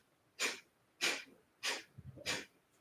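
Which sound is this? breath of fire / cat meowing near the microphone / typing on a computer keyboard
breath of fire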